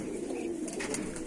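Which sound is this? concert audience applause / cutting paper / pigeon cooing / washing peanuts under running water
pigeon cooing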